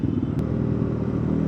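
A 2025 Bajaj NS400Z motorcycle engine drones steadily while riding, a loud low-pitched buzzing hum held for the brief moment without changes in pitch.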